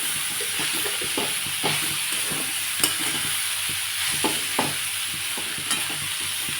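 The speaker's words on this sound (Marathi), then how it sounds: "आता याला हळद नमकमध्ये मी झाकून दहा पंधरा मिनटं शिजू देते" Katurle vegetable with turmeric and salt cooks in a pan, giving a steady close sizzle and hiss with scattered light scraping stirs, and no voices.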